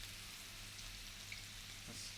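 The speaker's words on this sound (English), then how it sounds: "That's some good sizzle factor you have there." Potatoes frying in olive oil give a faint, steady sizzle with an occasional small pop, heard without any talking.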